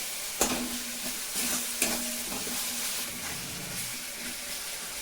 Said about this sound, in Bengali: বেশ সুন্দর করে মশলাটা ভাজা ভাজা করে নেবো।